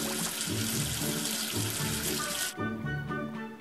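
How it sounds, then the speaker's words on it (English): Water runs from a tap to rinse soap off, a steady loud gush that abruptly shifts to a softer, thinner flow partway through, with no voices. "Wash away the soap with water."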